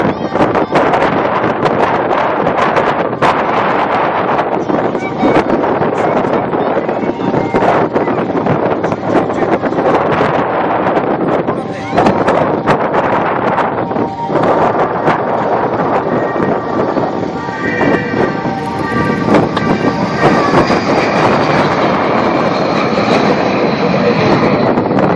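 Black Diamond Jet Team jets take off at an airshow, filling the air with a loud, sustained roar of jet engines that swells toward the end. Gusts of wind buffet the microphone throughout.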